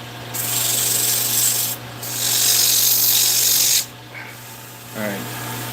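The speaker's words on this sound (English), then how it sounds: "Gets a little hot. The sandpaper does." Sandpaper rubs against a spinning wooden bead spinner of tiger maple on a lathe, a loud steady hiss in two long passes with a short gap between, then a quieter tail with brief softer contact.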